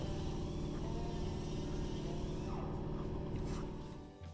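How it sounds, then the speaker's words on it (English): A turbocharged excavator engine runs with a loud, constant roar, a deep rumble and a steady higher turbo whine, louder than normal, easing off slightly near the end. "This customer said their turbo on their excavator sounds louder than usual."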